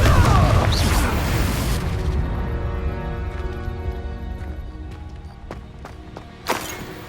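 A Confringo fire spell exploding during Hogwarts Legacy combat: a heavy, roaring boom that fades into a low rumble, followed by scattered small impacts and one last sharp pop, with no one talking.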